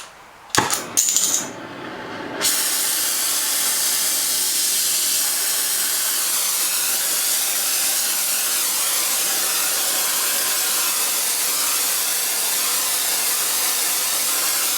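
A torch heats a metal part before pressing, a loud steady roaring hiss that starts after a few sharp metallic clinks and continues unbroken to the end.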